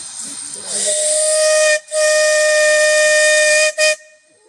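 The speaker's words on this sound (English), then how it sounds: "Are you ready for the whistle?" A steam locomotive whistle sounds a loud, long sustained blast, breaks off, then gives a short final toot, with steam hissing underneath.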